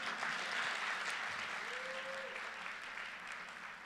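A church congregation claps in a sustained, even round of applause, moderately loud and filling the space, with a faint voice briefly audible partway through.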